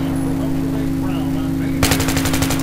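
A rapid burst of automatic machine gun fire in Battlefield 3 starts abruptly near the end, loud and close over a steady background hum.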